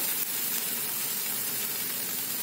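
Ragi flour ghavan crepe roasting on a hot pan gives a constant, even hiss and sizzle, close and steady with no talking.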